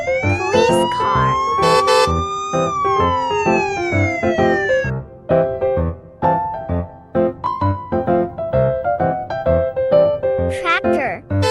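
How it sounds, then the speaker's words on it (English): A police car siren wails in rising and falling sweeps over a steady, full-volume background of children's music, then gives way to short, choppy sounds. "Police car."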